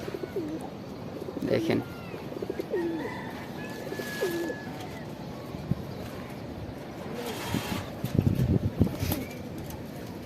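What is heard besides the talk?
Shahjahanpuri pigeon pair cooing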